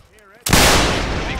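Musket volley from a reenactment regiment's skirmish line, 32nd Regiment of Foot, at a North and South event: a sudden loud blast after quiet, then a long rolling roar and echo of many muskets.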